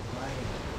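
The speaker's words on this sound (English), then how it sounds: "It's high tide, so it's just choppy and rough out there." Strong wind at high tide buffets the microphone while rough, choppy sea waves churn underneath, a dense continuous roar.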